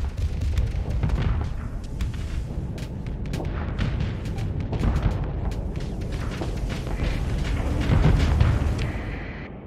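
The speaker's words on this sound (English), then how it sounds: "I'm trying my best this year to get both guns to fire." Ship guns firing in the space game StarSector, a dense continuous barrage of booming blasts and rumble, loud and sustained throughout with no pauses.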